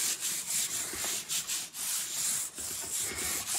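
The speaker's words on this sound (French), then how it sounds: "Et là, je frotte comme il faut pour bien faire que l'acrylique aille chercher le plus possible ce qu'il me reste de pan pastel" Acrylic paint being rubbed onto a gel printing plate to lift leftover Pan Pastel, a steady close scraping-rub with brief pauses and no talk.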